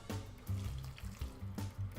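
Steady bubbling and sizzling from a pot of water at a rolling boil, close and continuous, with occasional louder pops and no talking.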